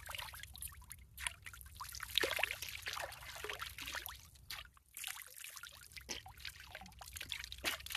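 Water splashes and pours continuously during outdoor bathing. The sloshing is fairly faint and uneven, with a low rumbling background.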